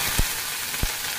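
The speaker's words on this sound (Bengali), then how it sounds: "তেলটা গরম হয়ে গেছে, আলুটা দিয়ে দিই।" Potatoes hiss and crackle in hot oil in a home kitchen, a dense close sizzle with two brief soft knocks.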